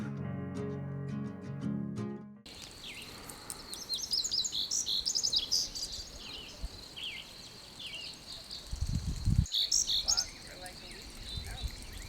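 A red-eyed vireo sings short chirping phrases from the forest canopy at Tony Grove, repeated at intervals and fairly distant, over a steady bed of insect and cricket buzz and occasional low rumbles after a brief musical opening.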